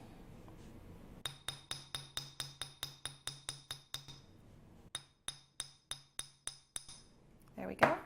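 A hammer taps a wire clasp to flatten it, giving a quick series of bright metallic clinks, about fifteen evenly spaced strikes, then a pause and eight more, close and distinct.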